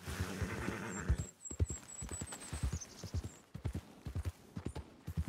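Rhythmic hoofbeats clop along steadily in Red Dead Redemption 2, with a horse's high whinny rising partway through, close and clear.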